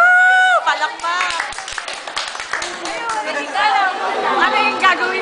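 A crowd of people claps and cheers on cue at an event, a burst of applause mixed with whoops and chatter throughout.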